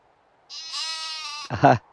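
Sheep in the Transport Fever video game let out a single drawn-out bleat followed by a short, rougher second call, clear and close against near silence.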